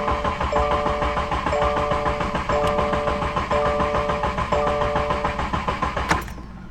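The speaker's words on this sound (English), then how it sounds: "it's going to crank your car over to recycle the oil through the system to prime it" A Subaru FA24 engine in a 2022-2026 WRX, BRZ or Ascent cranks over without starting to prime fresh oil after an oil change, giving a steady, loud mechanical drone with a repeating pulsing tone that stops abruptly near the end.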